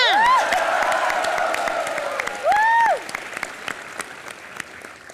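Loud studio audience applause with cheering at a live Hindi comedy show as a guest is welcomed, dense clapping with whoops and shouts rising over it, swelling briefly again before fading.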